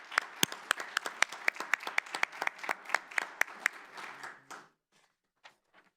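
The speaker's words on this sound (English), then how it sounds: "I would hope that we might give them a round of applause" Audience at a school board meeting applauding students: a thin scattering of distinct hand claps at first, building into light applause and then stopping abruptly, with a few faint claps trailing off into quiet.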